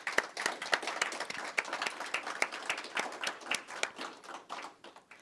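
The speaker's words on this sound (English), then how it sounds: "I ask the graduates to join me in a round of applause for your family, friends, and the faculty who have helped you to get to this point." A graduation audience at an X-ray technician and MRI program ceremony claps in a sustained round of applause, dense overlapping hand claps filling the hall close and loud.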